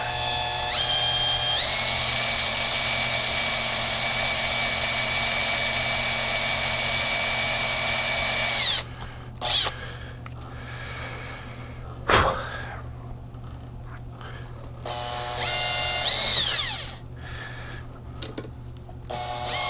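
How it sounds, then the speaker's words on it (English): A power drill whines loudly and steadily for several seconds drilling through pot metal on a Honda XR80 petcock, then stops; shorter bursts of drilling and scraping follow with pauses between. "If we can drill straight through."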